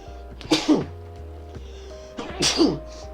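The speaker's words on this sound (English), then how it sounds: "Oh no, I'm gonna sneeze." Two sneezes about two seconds apart, each a sharp close burst with a short breathy lead-in, over a quiet low background hum.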